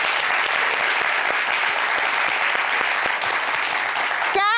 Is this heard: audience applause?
yes